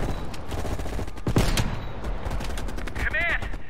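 Heavy gunfire and explosive fusillade in Call of Duty Cold War as a sniper rifle is readied to help allies pinned down on a ridge, a dense, loud battle din with a sharp blast and someone talking over it.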